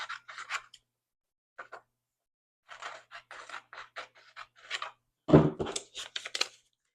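Scissors snip craft material in a quiet room: a series of short, close crisp cuts and rustles separated by brief pauses, with a louder handling thump near the end.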